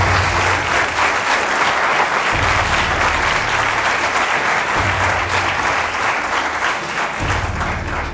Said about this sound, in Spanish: Un aplauso, suerte.